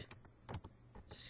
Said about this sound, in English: Type in Minecraft